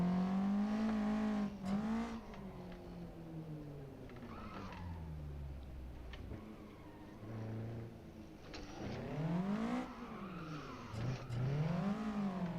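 Car engine in a racing video game on a dark mountain pass, revving up and down through hairpin corners, pitch sweeping low then climbing steeply as the throttle is floored, loud and continuous with brief tire squeal.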